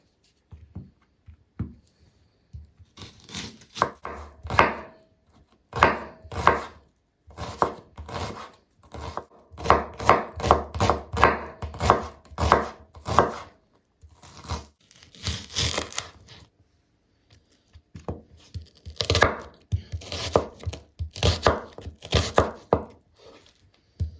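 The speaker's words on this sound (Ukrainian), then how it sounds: "Для фаршу будемо нарізати дрібненько цибульку" Knife finely chopping three small onions on a board for pork mince, a steady run of rapid close taps in bursts with short pauses, no voice.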